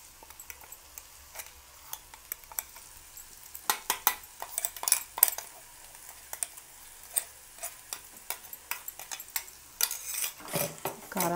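Okra frying in a pan with chili powder mixed in is stirred steadily, a spatula scraping and clicking against the metal in irregular strokes over a low sizzle, growing busier toward the end, with no voices.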